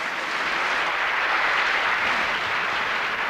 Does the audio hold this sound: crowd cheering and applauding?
yes